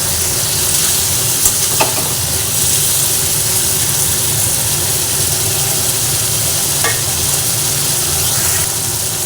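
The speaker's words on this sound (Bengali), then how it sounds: "আলুটা দিয়ে ভালোভাবে একসঙ্গে নাড়াচাড়া করে নিচ্ছি" Fried potato pieces stirred with spices in a hot pan for an eggplant kofta curry, giving a continuous loud sizzle and hiss with occasional faint scrapes of the spatula, no voices.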